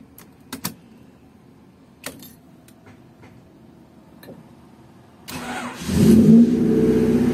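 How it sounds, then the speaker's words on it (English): Honda Civic EG with a D15B engine: a few clicks and ticks precede the starter cranking, then the engine catches and settles into a loud, steady cold-start idle, close by with no talk. "I'm gonna do a test run, or maybe car idling later on. Cold start. So here we go, cold start."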